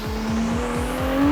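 Ferrari 296 GTB engine revving as it accelerates, a loud, close, rising engine note with rhythmic pulsing and a steadily climbing pitch, no voices over it.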